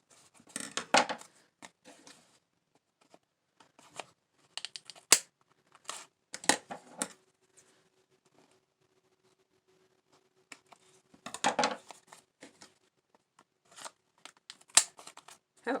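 Scissors working through very thick brown paper, irregular bursts of crunchy snipping and crinkling close by, separated by near-silent pauses and sharper clicks of the blades, with no talking.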